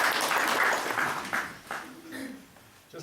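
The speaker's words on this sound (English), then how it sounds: "Please, a big round of applause from my assistant, Desmond" An audience gives a brief round of applause for an assistant during a meditation talk, a moderate wash of clapping that fades over a few seconds.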